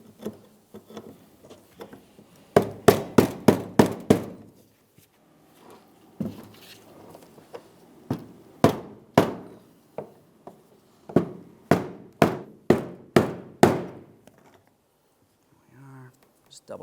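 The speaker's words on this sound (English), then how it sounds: "Continue with your hammer and punch." Sharp metallic strikes from a hammer on a punch while securing a fuel level sensor on a Chevrolet Trailblazer, in quick bursts of four or five blows with pauses between, close and loud, with some faint talk.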